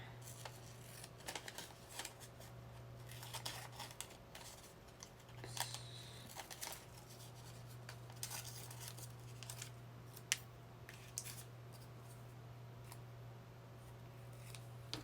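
Scissors snip around small paper QR codes cut from receipts for a junk journal, a string of soft, faint clips over a steady low hum, with no talk.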